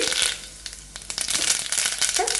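Mustard seeds crackling and popping in hot oil while tempering for puli rasam, with dense close sizzling and irregular sharp pops throughout.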